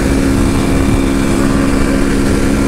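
A Honda Tornado motorcycle engine idles steadily and evenly, a loud, close, continuous low drone with no change in rhythm and no talking.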